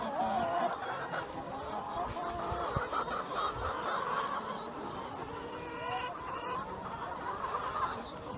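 Chickens cluck and murmur steadily inside a coop on Polyface Farm, a dense, moderately close chorus of overlapping hen calls with no talk over it.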